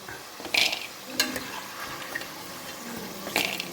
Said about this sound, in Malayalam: ആ സ്പൂൺ വെച്ച് ഇങ്ങനെ നോക്കുമ്പോൾ നല്ല കിലികില സൗണ്ട് കേൾക്കുന്നെങ്കിൽ മൂത്തെന്നാണ്